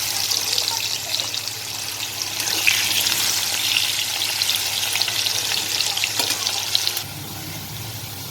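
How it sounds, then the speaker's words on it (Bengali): Potatoes frying in hot oil in a wok (kadai), a steady close, bright sizzle with faint stirring and clinks throughout, easing slightly near the end. "এখন আমি আলুগুলো ভেজে নেব।"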